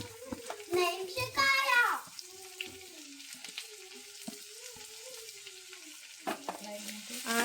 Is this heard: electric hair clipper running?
no